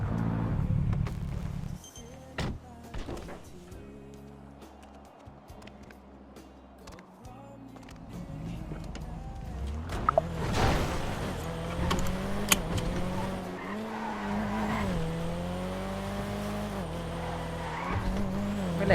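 A tuned Nissan Skyline R33 roars in GTA, its engine climbing through revs with tires squealing and skidding, loud and close, rising sharply partway through and holding a strained high pitch.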